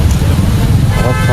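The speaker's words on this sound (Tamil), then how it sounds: "இங்கிட்டு போகிற வண்டியுமே ஃபுல் டிராஃபிக்கில் தாங்க இருக்குது." Heavy road traffic rumbles close by in Kodaikanal, with engines and a short horn toot in a dense, loud wash and a voice talking over it.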